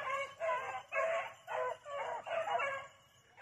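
Beagle hounds baying on a track, a run of about six loud, drawn-out howling calls in quick succession, near and alone without talk.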